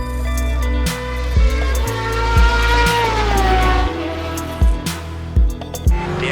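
Aston Martin Vantage GTE race car in rFactor 2 at Estoril, its engine loud and close with repeated sharp upshifts and revving rises in pitch throughout, a racing-sim cockpit perspective with no talk.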